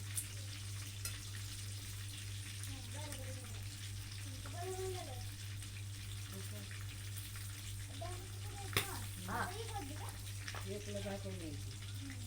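Green chillies fry in hot oil for a village-style vada pav, a steady close sizzle and crackle running throughout while someone talks over it intermittently.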